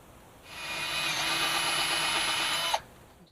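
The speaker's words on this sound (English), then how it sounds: "we're going to drill the holes for these" A power drill bores holes into cabinet doors during a van build, giving one continuous high whine of about two seconds that starts and stops abruptly and ends with a small bump.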